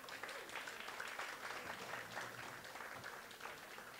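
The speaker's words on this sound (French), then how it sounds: "vous allez donner des acclamations à l'équipe dirigeante de Ivoire Yako Solidarité" A crowd at an official launch event for Ivoire Yako Solidarité applauds and cheers for the leadership team, with dense, steady clapping and voices sustained throughout at a loud, even level.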